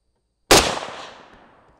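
A single sharp rifle shot from a Chinese SKS fired at a steel plate 100 yards away, loud and close, with a long decaying echo rolling off afterward.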